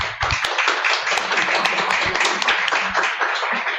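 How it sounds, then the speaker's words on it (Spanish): An audience claps steadily for a museum curatorial team at a modern art event, a sustained, fairly close round of applause with distinct individual hand slaps throughout and no talking over it. "Un aplauso, por favor."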